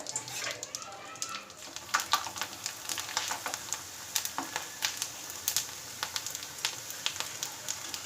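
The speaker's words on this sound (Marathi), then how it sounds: "इथे तेल चांगलं गरम झालेलं आहे आता ही आपण कोरडी आहे ती यामध्ये टाकून घेऊया" A steady sizzle of kurdai, a wheat crisp, frying in hot oil, with crackles and pops scattered throughout, close by and moderately quiet.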